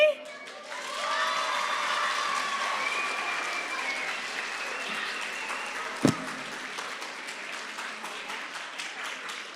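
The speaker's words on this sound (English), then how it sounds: "So it's just one big clap" A school assembly audience claps together in sustained, dense applause mixed with cheering voices, holding steady for several seconds with one sharp thump partway through.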